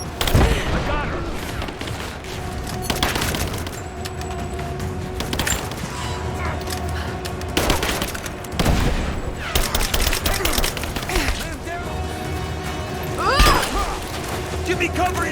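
Gunfire in the video game Rise of the Tomb Raider: repeated bursts of shots and booming impacts over a constant background of battle noise, loud and close, with several sharp clusters spread across the scene.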